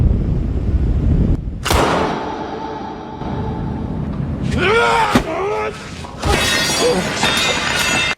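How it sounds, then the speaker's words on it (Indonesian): A gunshot in a hacker thriller lands as a sharp, loud crack within a dense, tense film soundtrack of impacts, whooshes and music, followed by further bangs and shattering hits. "Sarah pun ditembak dengan Oscar yang langsung loncat menerjangnya"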